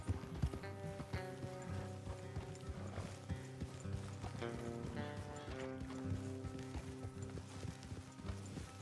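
Horses trotting along a road in Red Dead Redemption 2, steady clip-clop hoofbeats over a musical score with sustained tones, moderately quiet and continuous throughout.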